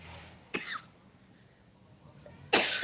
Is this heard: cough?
yes